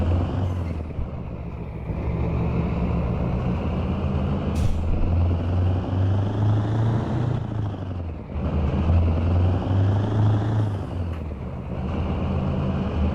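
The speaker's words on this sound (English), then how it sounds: "I like hearing those RPMs drop." A heavy truck hauling a 45-ton load of hay in the video game American Truck Simulator drones through repeated engine cycles, its RPMs rising and then dropping gradually between shifts, with a loud, steady rumble and brief hissing transients.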